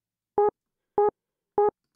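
A short vocal sample fills the snare slot in a textured, atmospheric production, sounding as three brief, identical tonal hits spaced evenly about half a second apart against silence.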